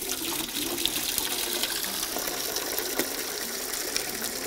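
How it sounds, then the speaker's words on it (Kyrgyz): Tap water gushes steadily from a faucet at a village home in Akbura, Kara-Suu district, Kyrgyzstan, a constant loud hissing splash without pauses for over four seconds, no voices. "Бул сырттан чыгып калуу суубуз."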